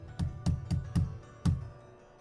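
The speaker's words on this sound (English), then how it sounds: "The thing throws itself against the steel door." Something heavy throws itself against a steel door in a building lobby, five dull, resonant thuds in a rough rhythm, the last after a short pause, fairly close and alone with no talking.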